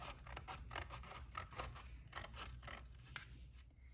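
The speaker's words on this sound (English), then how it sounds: "So I have this image that I'm going to cut." Scissors snip through a paper picture being cut for a vision board, a quick run of close, quiet, crisp cuts in a steady rhythm that slows toward the end.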